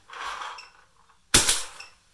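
A FreeFlow Caliber paintball marker fires a single sharp, loud shot of GI Ultra Evil paintballs, a bright crack that dies away quickly after a short stretch of quieter mechanical noise.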